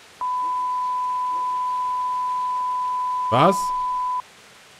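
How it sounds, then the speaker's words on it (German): A steady electronic beep sounds for about four seconds in the medieval role-playing game Kingdom Come: Deliverance, loud and unbroken, while a voice briefly speaks over it near the end. "Warum hat es gerade gepiepst?"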